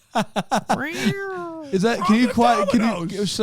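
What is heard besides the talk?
cat meowing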